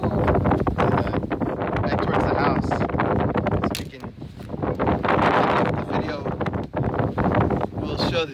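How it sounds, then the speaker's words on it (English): Strong wind buffets the microphone in heavy, rumbling gusts that swell and ease, continuing throughout. "the difference in the wind"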